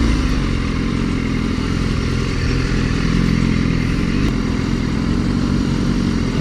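A motorcycle lane splits through stopped traffic, its engine droning loud and steady with a constant close rumble and rattle of wind and mechanical noise.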